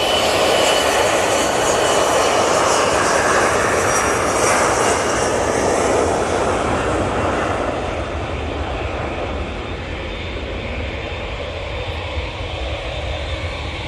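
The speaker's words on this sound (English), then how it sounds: "Martin's Turkish Airlines just come in." A Turkish Airlines airliner arriving at Manchester Airport, its engines a loud, continuous roar that is strongest at first and eases gradually as the plane passes and moves off.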